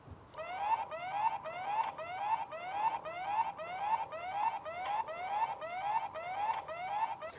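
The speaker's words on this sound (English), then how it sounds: "I thought I'll make you listen to the siren if you're interested." A YESKAMO BC13 wireless security camera sounds its built-in siren: a loud, rapid, repeating electronic whoop-sweep cycling steadily about every 0.7 seconds, alone with no talk.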